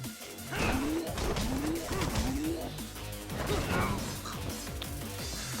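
Heavy crashing impacts from a tackle in the video game Lost Judgment, several thuds and smashes over busy game sound, with an effect rising in pitch between the hits.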